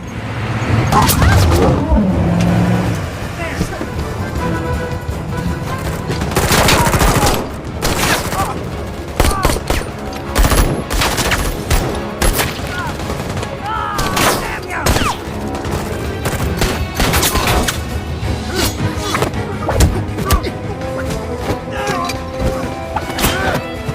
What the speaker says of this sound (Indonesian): Di tengah aksi baku tembak tersebut, Farida sempat menembakkan senjata biusnya ketika Lei sedang dipojokkan oleh bawahan